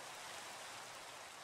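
Steady hiss of rain falling in the Minecraft video game, a continuous even wash of noise with no voices.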